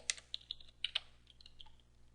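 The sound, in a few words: typing a database command on a computer keyboard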